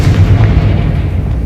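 A Confringo fire-blast spell detonating in Hogwarts Legacy, a loud, dense rumbling boom that fills the whole moment with low-end weight and slowly trails off, with no voices.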